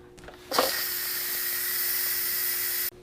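An Instant Pot's valve opens for a quick pressure release while cooking a meaty cabbage soup, letting out a sudden loud, steady steam hiss that holds for over two seconds before cutting off abruptly.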